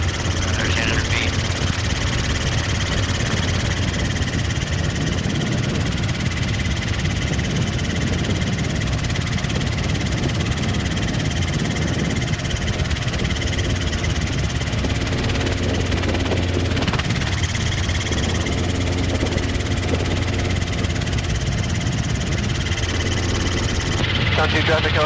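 A Robinson R22 training helicopter drones steadily in flight, its engine and rotor giving a loud, continuous, close vibrating hum throughout, with radio and cockpit voices talking over it.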